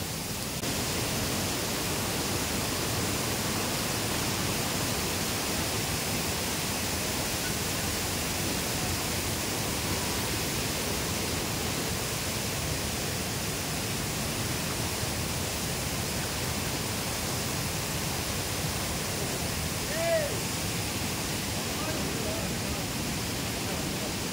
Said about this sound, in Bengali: ডিভিসি বাঁধে যেরকম জল ছাড়া হয়, সেরকম জল চলছে আমাদের এখানে